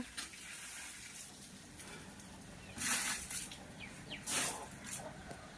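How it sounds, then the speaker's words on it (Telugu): Water splashes onto the ground around banana plants in two short pours amid quiet outdoor background noise. "అరటి చెట్లకు కూడా కొంచెం నీళ్ళు పోస్తున్నామండి"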